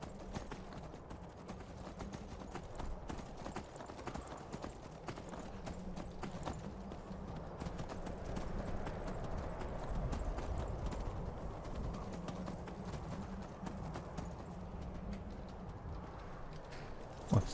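A horse carries its rider in the video game Skyrim, its hooves clip-clopping in an even, continuous rhythm at moderate volume.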